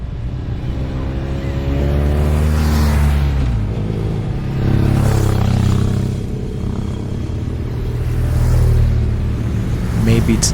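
Car engines rumble through their exhaust pipes on a road trip near Hoima, Uganda, a continuous loud low drone whose pitch rises and falls as the vehicles rev and settle.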